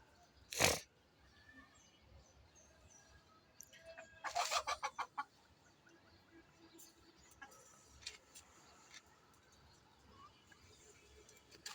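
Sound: chickens and rooster clucking on a rooftop farm

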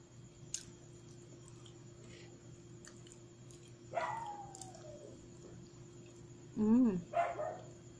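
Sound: dogs barking outside

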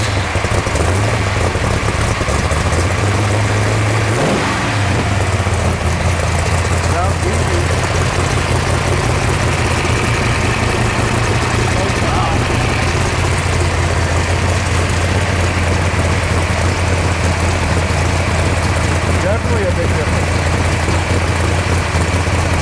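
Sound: car engine with 1050 carburetor running on race fuel

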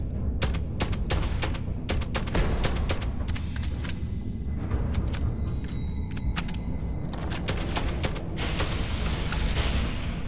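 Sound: gunfire in Starfield video game

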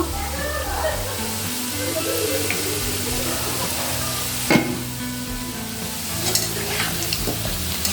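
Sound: stirring chicken biryani with potatoes in a pot

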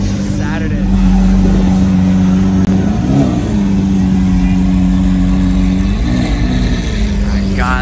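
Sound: supercar engine revving as it leaves a car show

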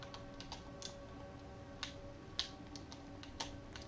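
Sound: computer typing in the video game Roblox Flee the Facility

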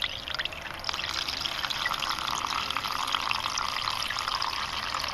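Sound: siphoning acid fluid from a tank into a coffee pot

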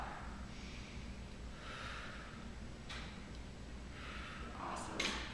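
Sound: breathing, exhaling through the mouth

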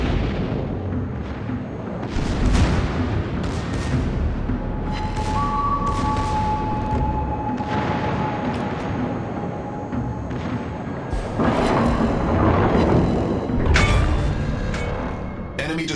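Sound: destroyer blowing up in a naval battle video game

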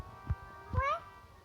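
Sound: cartoon cat meowing, Tom and Jerry

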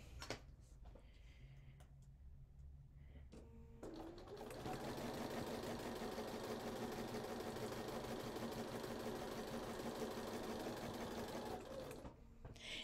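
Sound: sewing machine chain stitching quilt block pieces

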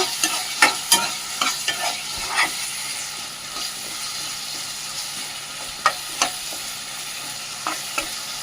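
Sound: stirring drumstick pieces in a pan

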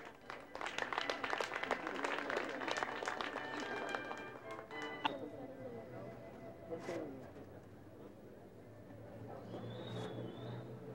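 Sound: applause for the couple at a mass wedding

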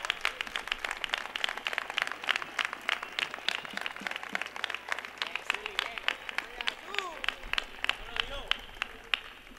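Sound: audience applause at carnival proclamation

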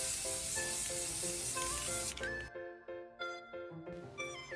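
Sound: Rust-Oleum flat spray paint spraying tubing

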